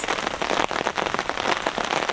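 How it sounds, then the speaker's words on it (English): Rain falls steadily on a campsite in New Zealand, a close, dense patter of drops on a surface that swells and eases slightly throughout. "This is the first bit of rain for ages."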